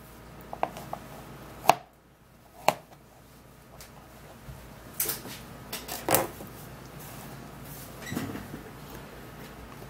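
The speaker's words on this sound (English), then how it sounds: "So you have to then cut it in cubes, okay?" A knife cuts food into cubes on a board, giving several sharp, separate chops with quiet pauses between them, close and fairly loud, with no talking.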